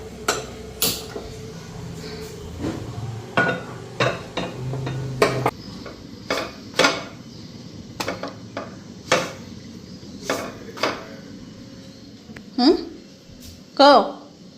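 A tawa griddle is set down and pots are handled in a home kitchen while rotis are being made: a series of sharp metallic clanks and knocks come at irregular intervals, close and fairly loud.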